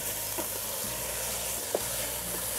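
Kırçan meat sautés in a little oil in a pan, with a continuous close sizzle and faint scrapes of stirring over a steady hiss, and one brief clink near the end.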